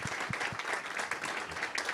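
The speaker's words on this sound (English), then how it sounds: "let's give Jordan Jackson a round of applause for putting all this" An audience claps at a Martin Luther King Jr. legacy event, a soft, fairly distant patter of applause holding steady for a couple of seconds with no voice over it.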